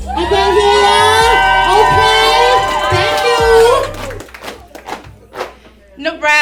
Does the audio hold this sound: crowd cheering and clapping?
yes